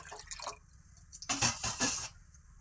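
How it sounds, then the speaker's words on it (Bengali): Water from a bowl is poured into a rice flour batter, two splashing pours with a dribble between them, close and fairly loud against a quiet kitchen. "এই আরও এক বাটি জল দিলাম"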